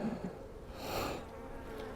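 Honeybees hum from an open hive frame, a faint, close, continuous buzz that swells briefly in the middle.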